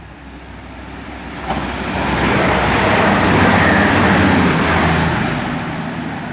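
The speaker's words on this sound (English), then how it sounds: "coming past now is a service from Exeter St David's to Glasgow Central" A Class 220 unit, 220029, on an Exeter St David's to Glasgow Central service, rumbles through Barnt Green station. The roar swells to a loud, sustained peak midway and then eases off as it passes.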